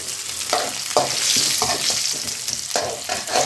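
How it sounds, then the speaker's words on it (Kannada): Crushed garlic and halved dried red chillies sizzle and crackle steadily in hot oil in a pan for curd rice tempering, with a few light stirring scrapes over the continuous frying hiss. "ಅದಾದಮೇಲೆ ಸ್ವಲ್ಪ ಇಲ್ಲಿ ಬೆಳ್ಳುಳ್ಳಿ ಜಜ್ಕೊಂಡು ಹಾಕ್ಕೊಳ್ತಾ ಇದ್ದೀನಿ ನಾನು."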